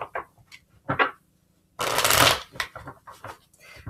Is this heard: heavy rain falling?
no